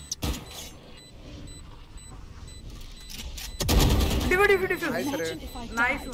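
Gunfire in the Valorant video game: a sharp shot near the start, then a dense burst of spray fire, under excited voices talking throughout.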